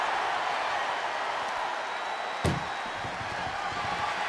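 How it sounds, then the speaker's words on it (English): A wrestler is power bombed into the back of an ambulance at a WWE event: one sharp, heavy slam rings out close by under the steady roar of a capacity arena crowd. "Power bombed into the back of the ambulance."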